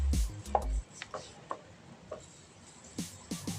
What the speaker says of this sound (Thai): หั่นเป็นชิ้นแบบนี้ไว้แหละ